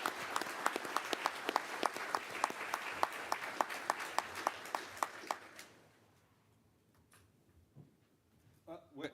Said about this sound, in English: If you can just give them a round of applause for.